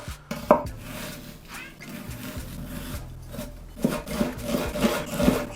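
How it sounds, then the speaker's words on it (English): A knife finely chopping an onion on a cutting board, a series of quick wooden taps and scraping strokes, close and moderately loud, with quiet pauses between bursts. "using your knife, just go through the onion and just finely chop it"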